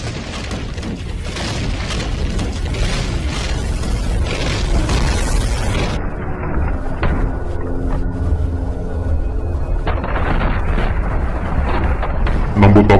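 A loud, rumbling explosion with heavy booming low end and debris-like crackle, continuing as a roaring aftermath.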